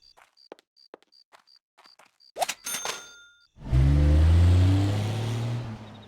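A taxi arrives in The Sims 1, a steady car engine swelling in and idling loudly for a couple of seconds, after a run of quiet rhythmic beeps and clicks of game interface sounds.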